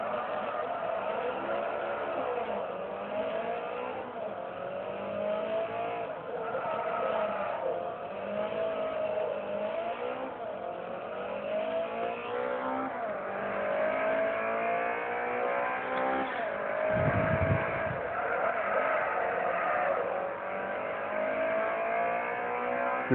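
A race car's engine roars and revs as it drifts in the video game Forza Motorsport 3, its pitch rising and falling through slides with a brief tire squeal, steady and loud with no talk.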